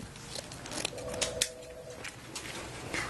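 Scissors snip through mesh ribbon for a fall wreath, a few quick close crisp cuts with rustling of the ribbon in between.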